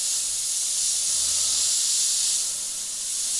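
An airbrush spraying paint gives a steady, close, airy hiss that holds continuously and swells slightly toward the end, with no talk over it.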